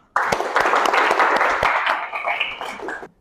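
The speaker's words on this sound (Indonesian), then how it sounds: "tepuk tangan untuk kita semua" A small group applauding together in a classroom, sharp individual claps from nearby hands forming a brisk burst that starts abruptly and stops after about three seconds.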